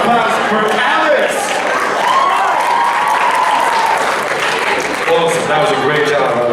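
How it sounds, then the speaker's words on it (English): A high school talent show crowd applauds loudly for a singer, a dense roar of clapping mixed with cheering and shouts, with a voice carrying over it partway through. "Another round of applause for Alex."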